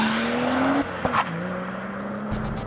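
A 2012 BMW 3-Series in Sport Plus mode drives with a steady engine drone that climbs in pitch, then drops with a gear change and settles into a level cruise, with road and tire noise underneath.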